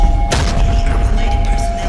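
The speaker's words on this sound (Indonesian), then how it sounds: "Tembakannya udah deket di atas itu." Gunfire in the video game Arena Breakout: one sharp, loud blast early on, followed by a rumbling, busy battle din that continues for the rest of the moment.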